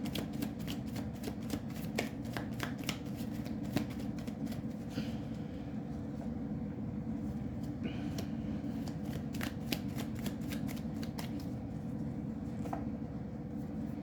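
Tarot cards being shuffled by hand, repeated quick riffling flutters in bursts with short pauses between them, close and clear over a soft background hum.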